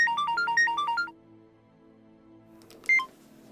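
A mobile phone rings with a quick run of bright, repeating electronic tones for about a second, then goes quiet under a soft musical background before one more short beep sounds.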